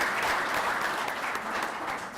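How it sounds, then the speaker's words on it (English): An audience claps together, a dense, steady burst of applause that holds at an even level throughout. "let's give them a round of applause for"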